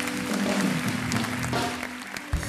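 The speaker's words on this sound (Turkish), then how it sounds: "Bir alkış alalım Sinan Akçıl'e." Studio audience applauding Turkish producer Sinan Akçıl on a live TV talk show, a steady dense wash of clapping that holds for a couple of seconds, then thins out with a sharp thump near the end.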